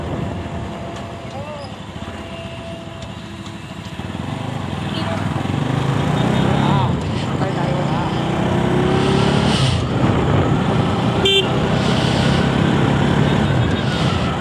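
A car passes on a foggy rural road near a temple, its engine swelling from a low hum to a louder sustained drone, with a voice speaking over it.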